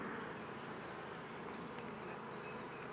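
Honeybees buzz steadily during a beehive inspection, a dense close insect hum filling the whole stretch at low level with no talking.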